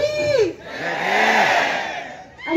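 A large crowd at a Jai Bhim rally raises a loud, sustained collective shout, a swelling roar of many voices that rises and holds for about two seconds before fading, with a lone voice leading in before and after.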